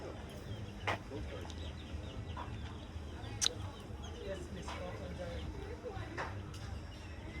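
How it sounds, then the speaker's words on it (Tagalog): A chicken clucks a few times, faint and somewhat distant, in an outdoor setting in Jamaica with steady ambient noise and occasional background voices. "Ang manok to."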